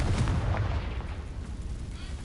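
A blasting-spell explosion from Hogwarts Legacy: one dense, rumbling boom that swells at once and decays slowly over about two seconds, heavy in the low end.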